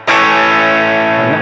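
An electric guitar played through a Line 6 Helix with a graphic EQ boosting bass and cutting harsh highs rings out as one loud, sustained distorted chord that decays slowly over a second and a half.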